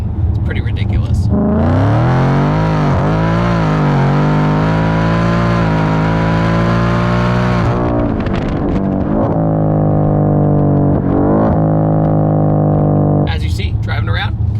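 A modified 2019 Ford Mustang GT making 603 wheel horsepower, driven calmly: a loud, steady engine drone that rises smoothly, holds, then settles into a lower cruising hum, with someone talking over it throughout.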